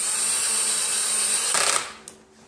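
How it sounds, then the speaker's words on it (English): A power drill drives Allen bolts while an office chair is assembled, a close, steady whir that runs for about a second and a half, then stops with a short clatter. "I think I can probably adjust the drill down a little bit"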